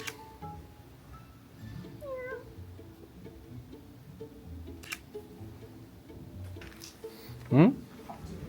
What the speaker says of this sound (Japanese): あなたはおしゃれの猫だね。